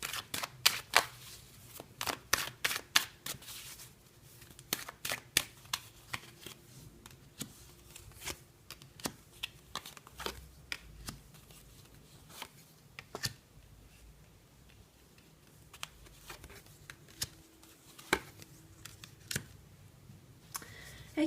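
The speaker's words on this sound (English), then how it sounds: "we'll give the cards a good shuffle" Tarot cards are shuffled by hand in a quiet room, sharp crisp riffles and taps that come in quick clustered bursts and then thin out to scattered single snaps, near and clear with no one speaking.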